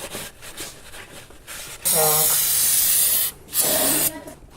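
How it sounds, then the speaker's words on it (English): Brake cleaner sprayed onto a Toyota valve cover during a valve cover gasket replacement: two loud, steady aerosol hiss bursts, the first about a second and a half long, the second shorter, close to the mic. "Use some brake clean."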